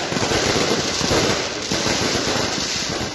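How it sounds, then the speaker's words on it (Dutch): Fireworks set off outside a house crackle and pop in a dense, continuous burst of sharp bangs that stays loud and busy throughout. "Gisteravond werd al vuurwerk afgestoken bij de woning van Belserang in de Holendrechtstraat"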